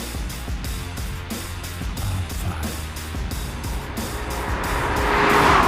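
A 1990s Nissan 300ZX sports car with 74,000 miles and a light tune drones steadily while driving, then revs up and grows louder toward the end.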